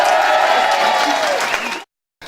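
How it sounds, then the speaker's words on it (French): A stadium audience applauds and cheers in a dense, loud roar that holds steady, then cuts off abruptly. "Le public vous acclame."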